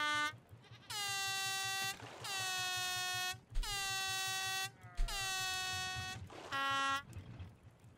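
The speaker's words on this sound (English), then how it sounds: "I'm trying to waste your whole air horn so it runs out of fuel." Raft video game air horn on a raft, sounded in four long, loud blasts and then a shorter one, each a steady, brassy honk with brief gaps between them and no talk over it.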